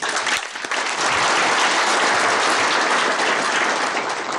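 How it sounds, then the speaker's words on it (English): Sustained loud applause from an audience at a non-governmental organization week event in Nairobi, a dense steady clapping that swells after a brief start and continues without pause. "Can we do a louder clap than that?"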